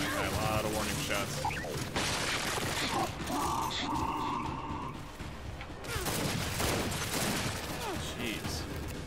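Gunfire in the video game Gears 5, dense bursts of shots and mechanical clatter through most of the stretch, with a brief lull midway, loud and busy over game effects.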